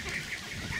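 A Schoolhunter Dominator mouth call blown to imitate a white-fronted goose gives one brief honking note, close and fairly soft.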